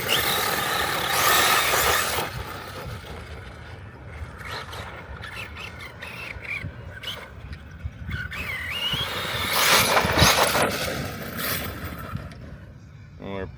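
Arrma Kraton and Losi Lasernut RC cars driving outdoors, a buzzing electric motor whine that surges and fades with broadband rumble, louder near the start and again around the tenth second.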